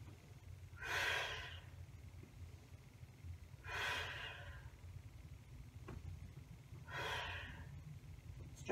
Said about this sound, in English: Three big breaths.